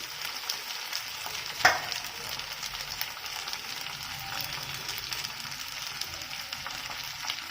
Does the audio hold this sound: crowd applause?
no